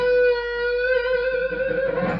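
An electric guitar holds a single sustained, rich tone with strong overtones, clear and alone, with slight roughness near the end.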